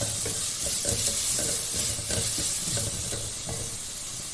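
Chicken curry ingredients sizzle and fry steadily in a pan over a very low flame, with a soft continuous hiss and occasional light stirring scrapes, close and moderately quiet with no talk.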